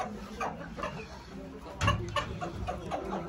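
White silkie chickens clucking in their pen on a purebred poultry farm, soft scattered clucks with a louder burst near the middle over faint background noise.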